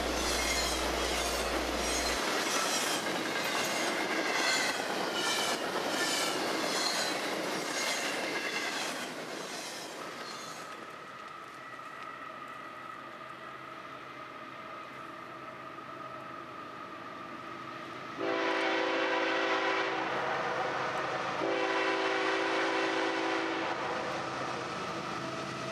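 A CSX freight train led by a General Electric AC44CW locomotive on steerable trucks rolls past on the Mohawk Subdivision, a loud steady rumble of railcars with wheel squeal and clatter that swells again near the end, no voices.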